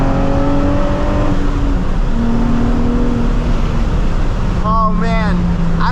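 Nissan 350Z engine at full throttle, a loud steady roar filling the clip, with a rising whine near the end as it pulls hard; someone speaks over the engine noise.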